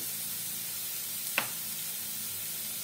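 Mustard leaf bhaji frying with asafoetida, turmeric, coriander powder, chili powder and garam masala stirred in, heard as a steady hiss of frying with one sharp click of the spoon midway and no talking.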